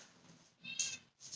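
A house cat meows indoors, a couple of short, faint, high cries close by, with no talk over them.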